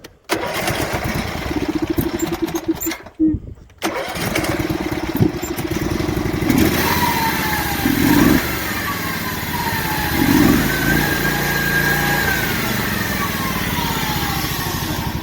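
A Lucas dedicated slabber mill DSM23 engine cranks, stutters and catches, then settles into a loud, steady close-up run with a few throttle swells and a rising whine.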